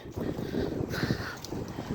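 Wind blows through a large casuarina grove on a hilltop, a steady low rushing roar close to the microphone with brief gusting swells.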